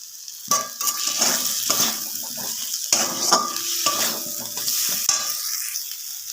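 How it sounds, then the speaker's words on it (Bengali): Fried potatoes are sautéed with spices in a pan, with a steady sizzle under repeated close scraping and stirring strokes from a spoon against the metal. "আলুটা ভালো করে কষিয়ে নিয়েছি মশলার সঙ্গে।"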